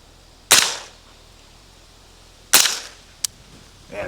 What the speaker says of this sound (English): let's fire some rounds